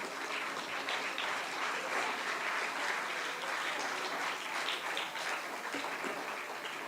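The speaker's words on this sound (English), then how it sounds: "Let us take a moment to appreciate the hard work, synchronization, and team spirit of all our young performers with a big round of applause." An audience at a school festival claps for young choir performers, a sustained, even wash of applause from a large crowd that holds steady throughout without any speech.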